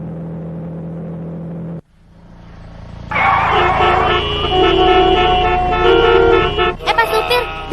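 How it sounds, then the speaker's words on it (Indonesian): Car horns from other drivers blare loudly and repeatedly in traffic, long sustained honks layered over one another after a brief quieter engine hum. "Itu diklaksonin pengendara lain."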